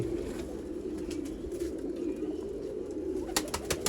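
Sialkoti pigeons cooing in a low, steady murmur beneath a constant background hum, with a few faint chirps near the end.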